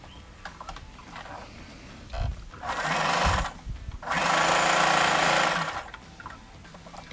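A sewing machine stitches the shoulder seam of a princess-cut blouse in two loud, steady bursts, a short run and then a longer one, with quieter handling noise between them.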